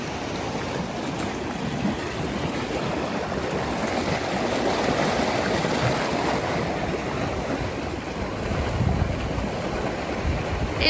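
A flooded creek, Willow Creek near Bethel outside Sioux Falls, South Dakota, swollen into a raging river, roars and rushes in a steady, dense wash of water with no voices.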